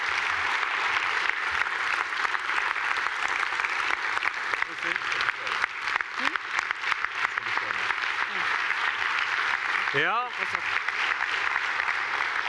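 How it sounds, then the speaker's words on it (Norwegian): Sustained audience applause at a Norwegian award ceremony, dense and steady throughout, with a voice speaking briefly over it near the end. "velfortjent applaus"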